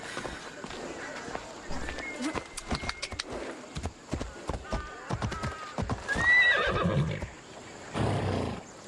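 Galloping hooves and a loud whinny from a horse in the video game Assassin's Creed Odyssey, with rapid clip-clop beats throughout, the neigh rising near the middle, and speech in the background.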